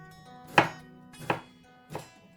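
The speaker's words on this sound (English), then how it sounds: "Just chop them into small pieces." A knife chops tomatoes into small pieces on a cutting board, making three sharp, evenly spaced thuds close up, with quiet between strikes and no talking.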